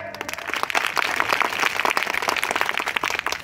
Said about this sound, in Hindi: तो थोड़ा जोरदार ताली बजाइए